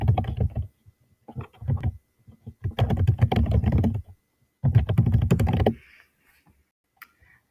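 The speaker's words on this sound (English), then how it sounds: "here I'm going to type in that question again" Question being typed on a computer keyboard, close rapid clattering keystrokes in several dense bursts separated by short pauses, ending with a few isolated taps.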